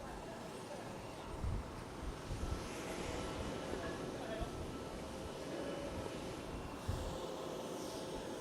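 A Dash 8 turboprop arrives at Fukuoka Airport, its engines a steady, distant broadband roar with low rumbling swells that hold evenly throughout.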